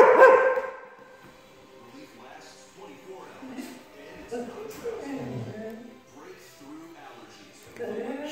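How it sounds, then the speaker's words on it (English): A dog lets out a loud, insistent bark at the start, followed by quieter whines and yips. "There's the demanding bark I was talking about."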